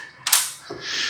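A heavy duty bolt cutter with an ergonomic grip snapping through a metal bolt: one sharp, loud metallic crack close by, followed by a softer hissing clack as the jaws release.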